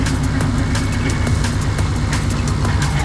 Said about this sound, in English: At some point, the motor just cold started